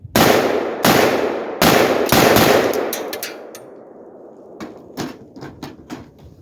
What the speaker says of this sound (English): We're going to go AK-47 first, okay? Romanian AK-47.